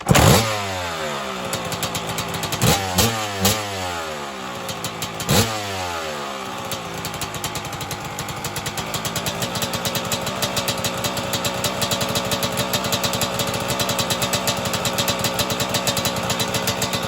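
A 1996 Suzuki RM250 two-stroke motorcycle engine fires up after a few sharp sputtering attempts, then settles into a loud, steady, buzzy idle with a rapid rattling pulse, close by and with no voices.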